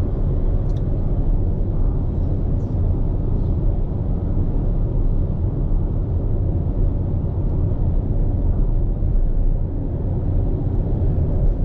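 Steady, close interior road rumble of a Toyota RAV4 hybrid cruising at about 80 km/h on a flat, gentle road, a continuous low drone throughout with no talk.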